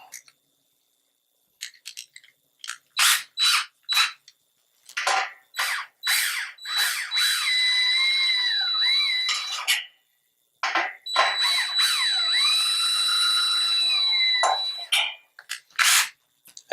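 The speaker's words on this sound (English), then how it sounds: "I'm going to power tool assist a little bit." Power drill driving screws into a mounting board during assembly of a flicker fluorescent kit, heard as two sustained whirring runs with rising and falling pitch, between clicks, rattles and handling clatter, close by.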